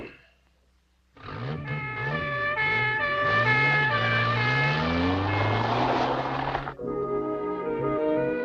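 A car pulls away with an engine revving up in rising, wavering tones, loud and close, then settles to a steadier drone as it drives off.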